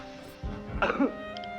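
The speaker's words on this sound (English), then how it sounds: "Now look to your left and cough." A single short cough, close and fairly loud, with a brief throaty burst after it, set against a steady low background hum.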